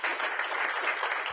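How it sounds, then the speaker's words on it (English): Audience applause after a geriatric oncology lecture at a hospital event, a brief, even wash of many hands clapping at moderate loudness. "Big round of applause, ladies and gentlemen, for that comprehensive session."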